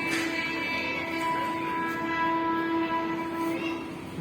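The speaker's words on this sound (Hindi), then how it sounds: "यहाँ से ट्रेन निकल रही है।" A train passes near the Gurudwara Sangrana Sahib in Amritsar, Punjab, with a steady rumble and sustained tonal horn-like lines running throughout, fairly loud and continuous with no talk.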